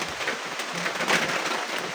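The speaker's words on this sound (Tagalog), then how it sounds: "Pahinga muna kami ng konti dahil malakas yung ulan" Heavy rain pours steadily outdoors, a dense continuous hiss with no voices, loud and unbroken throughout.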